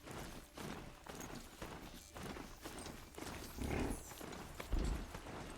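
A mount in the Horizon Zero Dawn video game trots with rhythmic hoof clip-clops, moderately faint and steady, with a couple of heavier thuds near the end.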